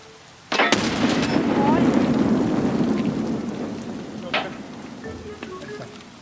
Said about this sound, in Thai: เดินเหยียบระเบิด เรียบร้อย